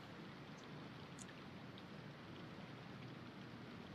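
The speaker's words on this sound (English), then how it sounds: "All right, it's raining." Steady rain falling in a video game, an even wash of hiss and patter with a couple of faint higher ticks, no voices.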